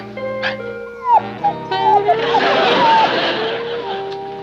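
A small pet dog whimpers and yips in a few short, rising whines, mixed with a bark, over music and room sound in a 1960s sitcom scene.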